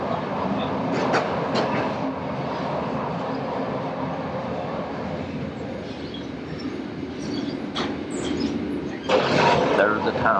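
A train rumbles along the rails with a steady rolling roar and occasional clatter, while people talk over it.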